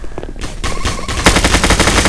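Gunfire in the Roblox game Mad City: rapid automatic bursts, loud and close, building into a continuous barrage.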